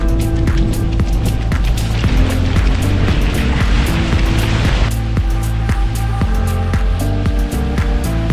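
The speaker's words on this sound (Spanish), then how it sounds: "Welcome to the Atlantic Ocean." Atlantic Ocean surf washes in a steady, loud roar of breaking waves near the shore, with a louder surge building midway before easing, beneath a rhythmic thumping that runs throughout.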